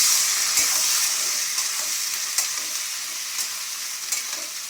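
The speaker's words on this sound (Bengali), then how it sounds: "শুকনো লঙ্কা আর পেঁয়াজ তেজপাতা ভাজছি" Onion, dried red chili and bay leaf fry in oil in a pan with a loud, continuous sizzle. Scattered scrapes and clicks from stirring stand out, and the sizzle eases off slightly toward the end.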